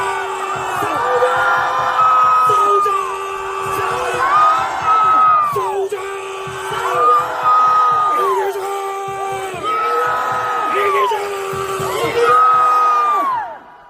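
A large rally crowd at Dongdaegu Station opposing impeachment chants and shouts in unison, loud repeated swelling bursts of voices rising and falling in rhythm.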